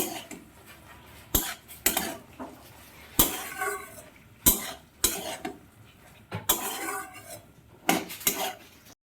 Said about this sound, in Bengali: এবারে আমি সেদ্ধ করা রাখা ডালটা দিয়ে দিচ্ছি নাড়িয়ে চাড়িয়ে একটু কষিয়ে নেব